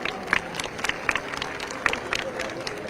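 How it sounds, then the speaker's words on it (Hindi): Loud applause from the audience at a Jharkhand Diwas celebration at the Delhi trade fair, steady clapping with scattered sharp claps and crowd murmur throughout. "जोरदार तालियां।"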